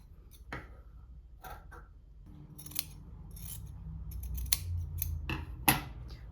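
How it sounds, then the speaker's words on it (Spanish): Scissors cutting along a trouser leg near the hem, giving a run of crisp snips and rustles of cloth in an uneven rhythm, close and quiet. "también cortamos por la línea que va más cerca al bajo"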